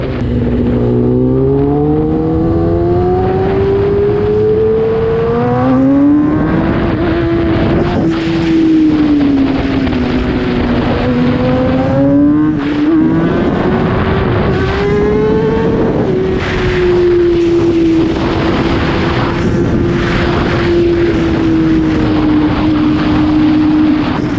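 A Kawasaki motorcycle engine drones steadily at over 200 km/h, pitch rising and falling as it revs through gears, buried in strong rushing wind noise.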